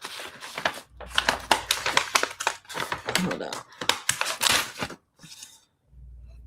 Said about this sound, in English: Tearing the wrong paper off.